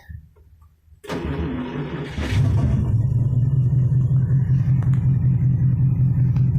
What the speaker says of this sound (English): Let's see if the car starts.